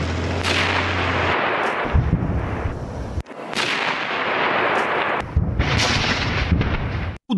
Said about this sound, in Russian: вот выезжает наш танк и методично уничтожает укрытие врага